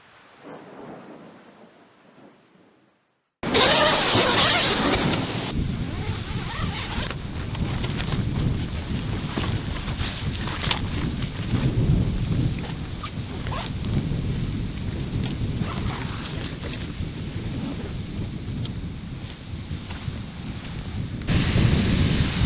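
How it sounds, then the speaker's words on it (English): After a quiet moment, a loud evening storm in the Scottish Highlands bursts in: heavy rain and gusting wind roar steadily against the microphone, with deep rumbling underneath. "It's been a very stormy first evening."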